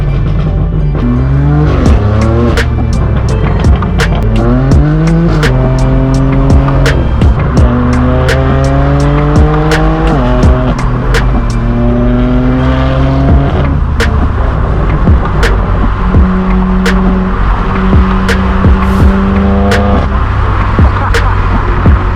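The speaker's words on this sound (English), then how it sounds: "F40 is heading out." A loud Ferrari F40 sports car engine revs hard and climbs through several gears as it pulls away from a supercar meet in Los Angeles, close by and roaring throughout.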